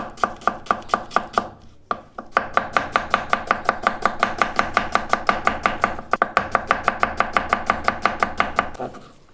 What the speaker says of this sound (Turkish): Soğanlarımızı yemeklik incecik doğruyoruz.